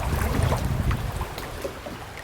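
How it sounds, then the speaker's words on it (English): River rapids rush and splash around a kayak in a broad, continuous wash of water noise, with some wind buffeting the microphone and the churning heaviest at the start. "Nice little rapids."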